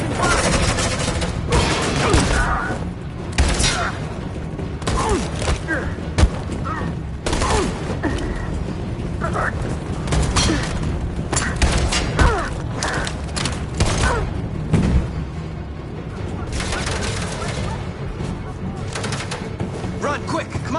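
Sustained gunfire and suppressing bursts during a firefight in Detroit: Become Human, dense and loud throughout the stretch, with shouted voices mixed in among the shots.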